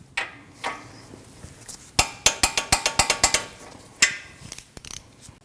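A hand ratchet tightens a nut on the front left CV axle of a 2013-2019 Ford Escape 1.5L, giving a quick run of loud, close metallic clicks, bracketed by a few scattered clinks of tool and metal.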